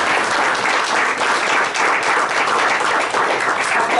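Steady, even applause from a tech meetup crowd thanking two presenters, a continuous mass of hand claps at close range with no voices over it.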